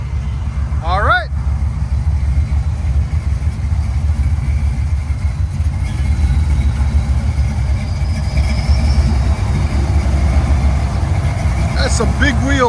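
A 1966 Chevy Chevelle SS with a 498 V8, headers and Flowmaster 40 Series exhaust rumbles loudly and steadily up close, its deep engine and exhaust note filling the whole stretch, with brief voices near the start and end.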